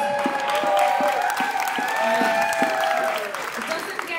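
At the Blues Fever 2023 dance competition final, an audience claps and cheers in a sustained crowd roar, with whoops and rising cries over steady applause.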